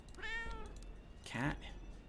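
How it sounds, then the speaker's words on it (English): Two short cat meows in the game Tokyo Dark, the second louder and higher, close and clear over quiet background. "Cat."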